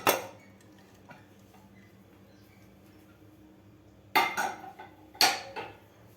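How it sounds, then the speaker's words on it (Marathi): A metal pressure cooker lid is lifted off after cooking raw green mango, with a sharp clank at the start, quiet handling, then two louder metallic clatters near the end, no talking. "आता आपण कुकरचं झाकण काढून घेऊया"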